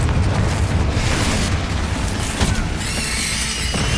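Bombarda and Confringo spell explosions from Hogwarts Legacy boom and crash in close succession, a dense roar of blasts with crackling debris, ending in a shimmering magical whine.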